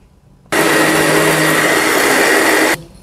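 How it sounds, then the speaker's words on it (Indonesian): Electric blender grinding a spice paste of candlenut and tomato for an Indonesian Javanese dish, switching on abruptly and running loud and steady for about two seconds before cutting off into near silence. "Lalu kita blender lagi."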